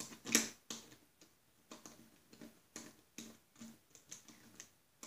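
A wrench snugs bolts on the chaincase of a Snapper rear engine rider, giving faint, sharp ratcheting clicks in short bursts roughly every half second, close by and without talk.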